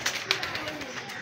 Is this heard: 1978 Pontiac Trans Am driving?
no